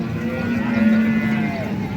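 A cow at the Modnimb cattle market gives one long, loud, sustained moo, close by, with a steady low tone and a faint crowd murmur beneath.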